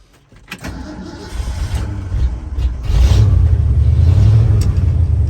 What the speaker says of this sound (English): We're going to start up our 77 F.